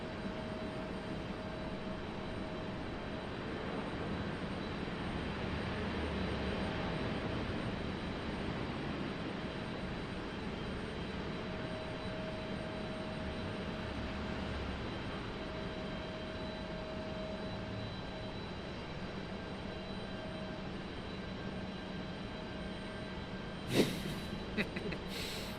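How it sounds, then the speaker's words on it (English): A Southwest Airlines jet airliner touches down at Raleigh-Durham airport, a steady distant jet roar running through the whole stretch, with a brief sharp knock near the end. "these Southwest pilots make it so exciting. Most dramatic touchdown"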